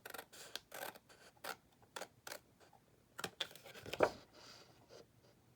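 Scissors snip through paper along a score line in a series of short, separate cuts at close range, with crisp blade clicks and light scratching between them and a firmer snip near the end.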